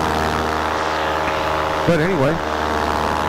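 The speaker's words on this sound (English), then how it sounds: "I'm hearing the engine noise through the side panel through the microphone" Paramotor trike engine running in flight, a steady droning hum heard through a helmet microphone under a voice talking.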